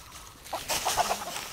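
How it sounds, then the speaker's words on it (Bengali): A garden rooster in a village gives a few quick, close clucks over a quiet outdoor background. "এই মোরগ একটা ধরে নেবো না, বাগানের মোরগ।"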